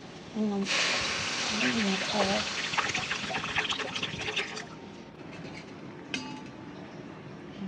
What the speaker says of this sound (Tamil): நான் வாட்டர் ஆட் பண்ணுறேன்.